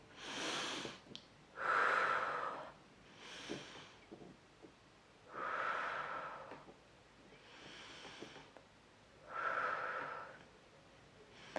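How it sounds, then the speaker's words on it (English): Slow, deep breaths during a reiki crystal-cleansing session, with long airy inhales and exhales in a regular rhythm, close and soft with quiet pauses between. "So we're going to take 5 deep breaths again."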